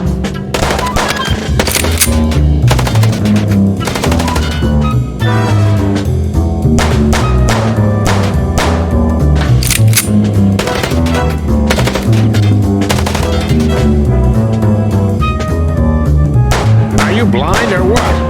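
Rapid gunshots during a car chase in the Chicken Police video game, loud sharp cracks scattered through a dense mix of dramatic music and engine noise that runs without a break.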